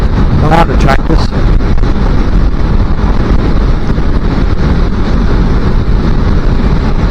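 A small-CC motorcycle is ridden two-up on a UK road with loud, constant wind buffeting over a low engine drone, and a brief voice rises early on.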